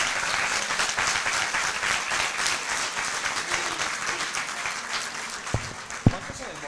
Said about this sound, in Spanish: denle un aplauso a los que vienen de Ibarra